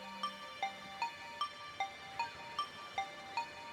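A phone chimes with a rapid string of email notification alerts, about nine short bright tones in a steady quick rhythm, faint and close, with no talk.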